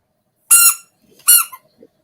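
A squeaky rubber duck toy gives two loud, bright squeaks about a second apart, each followed by a brief softer trailing squeal, with no talk.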